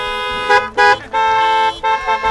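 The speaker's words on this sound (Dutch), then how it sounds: "toeteren in plaats van klappen bij het drive-in concert in Vlaardingen" Car horns honking at a drive-in concert in Vlaardingen, several loud bright horn blasts in quick bursts, one held longer, close and overlapping.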